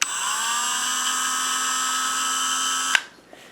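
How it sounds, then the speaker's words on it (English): A Dremel 8220 rotary tool on its lowest setting whines steadily at a low, even pitch for about three seconds, then cuts off abruptly, leaving near silence. "So this is what the 8220 sounds like."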